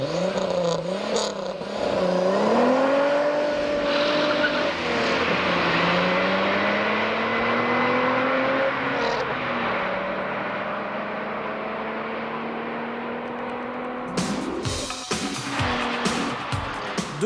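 A Renault 25 V6 Turbo car with a 250-horsepower turbocharged V6 revs hard as its tires squeal in long, wavering howls, the engine rising and falling loudly before a burst of clattering noise at the end.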